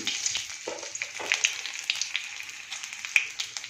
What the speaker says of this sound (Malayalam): നമ്മൾ ചെറിയ ഉള്ളി, പച്ചമുളക്, വറ്റൽ മുളക് കേട്ടോ, വറ്റൽ മുളക് ഇടുന്നു